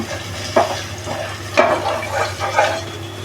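Bangda mackerel fries in a pan over medium-high flame, a steady low sizzle with a few louder spits and crackles at intervals, close and alone.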